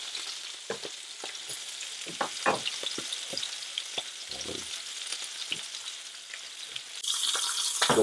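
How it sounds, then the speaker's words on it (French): Two pork chops searing in a saucepan over low heat for a Dijon mustard sauce, giving a steady close sizzle and crackle with scattered pops, the frying growing louder near the end. "on va laisser bien saisir les 2 côtes de porc"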